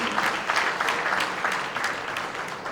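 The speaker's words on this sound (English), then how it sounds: "Let's give them a round of applause." A full round of applause from the audience at a book launch event: dense, loud clapping from many people that holds steady for the whole stretch, with no voices over it.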